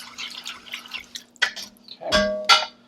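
A small splash of liquid poured into a pot of tamarind-braised short ribs gives brief, close wet spatters with a couple of sharper drip-like hits near the end.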